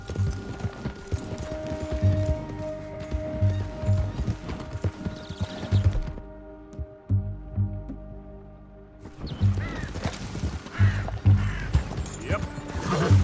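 Horse hooves clip-clop in a steady galloping rhythm across the ground in Red Dead Redemption 2, loud and close, with a quieter lull midway and music and game voices mixed underneath.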